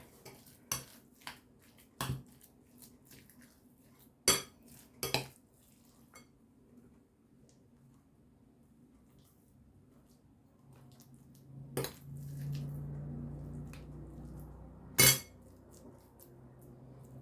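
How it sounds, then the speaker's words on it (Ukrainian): A spoon packs minced meat filling into eggplants in a quiet kitchen, giving sparse metallic clinks and taps against the dish, with a soft low rumble partway through. "Тепер буду фарш туди накладати."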